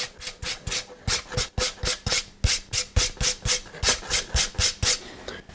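Rhythmic rubbing across the wooden plate of a violin during thickness fine-tuning, about a dozen even back-and-forth strokes, close and fairly loud, with a rasping, scratchy texture and no talking.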